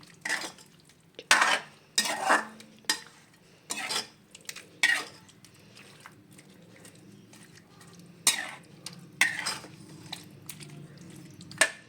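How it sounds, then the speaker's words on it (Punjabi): Marinated capsicum and onion are mixed in a pan, with a spoon scraping and clattering against the metal in irregular bursts separated by quieter pauses. "ਸਬਜ਼ੀ ਨੂੰ ਸਾਰੀ ਨੂੰ ਵਿੱਚ ਪਾ ਦਵਾਂਗੇ ਔਰ ਇਹਨੂੰ ਅੱਛੀ ਤਰ੍ਹਾਂ ਮਿਕਸ ਕਰ ਲਵਾਂਗੇ"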